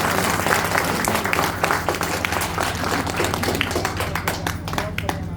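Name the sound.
audience applauding at temple event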